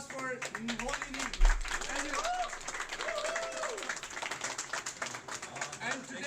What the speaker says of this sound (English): Please give a round of applause for Holy Knee.